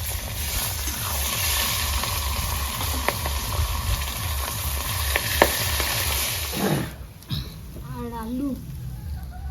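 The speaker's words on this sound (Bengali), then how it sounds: "দুটো মাথা আছে, এটাও ভেজে নেবো।" Rohu fish heads frying in hot oil give a steady close sizzle for most of the clip, then the crackle drops away near the end as a voice speaks.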